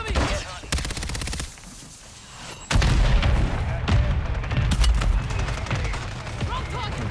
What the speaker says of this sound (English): Oh, I ran into the mortar.